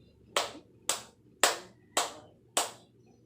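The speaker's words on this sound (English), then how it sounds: "Clap please for Miss Tan." Hands clap five times in a steady, evenly spaced rhythm, sharp and close, in a classroom applauding a student with no talking.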